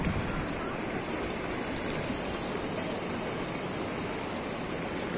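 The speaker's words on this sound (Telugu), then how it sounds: "చూడండి ఎట్లా వస్తుందో వాటర్." Strong flood water pouring over a road, a loud, steady rushing roar with no pauses, close by and alone throughout.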